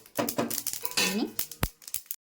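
Roasted flax seeds and peanuts being scraped from a pan onto a plate for laddus, a close run of metallic clinks and scrapes with a brief voice in the middle, ending in silence.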